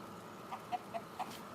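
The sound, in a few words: rooster crowing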